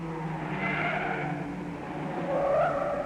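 Rally cars from 1962 skid around a gasworks hairpin on a racing circuit, producing a sustained tire squeal over engine roar that swells toward the end, sounding moderately distant with no voices.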